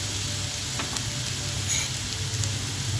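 Masala spices (red chili powder, garam masala, coriander powder and turmeric) fry in a pan, a close, steady sizzle with faint stirring scrapes and no talking.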